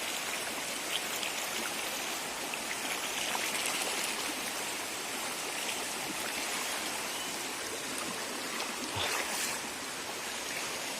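A rain-swollen stream rushes steadily after flooding, a broad continuous watery roar close by with no break and no voices.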